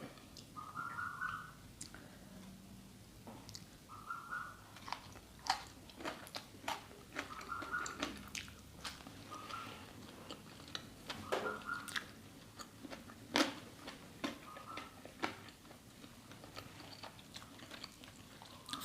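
Someone eats crispy pork belly with sticky rice close up, with repeated crunchy bites and wet chewing in an irregular rhythm. A few soft voiced sounds come between mouthfuls.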